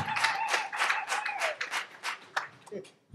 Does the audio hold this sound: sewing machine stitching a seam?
no